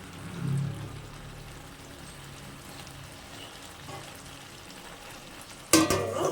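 Mutton fries and is stirred in a pan with a soft, low sizzle throughout, quiet and close, then a brief louder scrape of stirring near the end.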